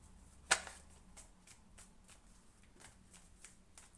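Tarot cards are shuffled nearby: one sharp snap, then a quick run of soft, rhythmic riffling bursts that carry on alone.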